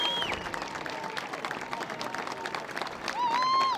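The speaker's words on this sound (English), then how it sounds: "They will give a big cheer." Spectators at a girls' 18s youth touch rugby medal ceremony cheer and applaud the bronze medal winners, a dense, steady wash of clapping and crowd noise that swells near the end.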